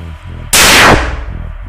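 A homemade firecracker built from a motorcycle spoke and matchstick heads bursts with one loud, sharp bang that rings off briefly, alone with no voices.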